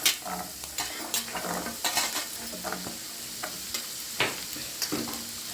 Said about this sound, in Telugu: చక్కగా వేయించుకోవాలి